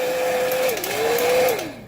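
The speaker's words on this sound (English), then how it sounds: "with a hairdryer." A hairdryer warming the film over a Logitech Harmony remote's buttons gives a steady, close whirring hum, with a faint pitch dip partway through before it winds down near the end.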